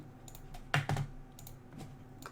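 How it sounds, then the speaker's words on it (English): Computer keyboard keys clicking during a livestream, a few quiet taps and then a louder cluster of clacks, sparse and close, with no talking over them. "Sorry if that clicking is loud."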